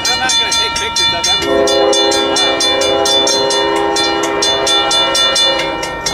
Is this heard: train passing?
yes